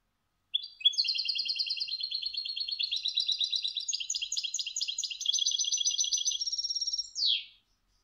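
Goldfinch song with a bell-like cascabel tone: one bird close and clear, delivering a fast, unbroken run of bright rattling trills for about six and a half seconds, ending in a short descending note against a silent background.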